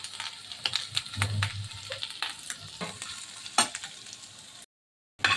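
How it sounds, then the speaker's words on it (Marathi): Chopped onion frying in a little oil in a pan, a steady soft sizzle with occasional stirring clatter, close and moderately quiet, then a brief drop to silence near the end. "हा असा कांदा भाजून घ्यायचा आहे करपवायचा नाही आहे"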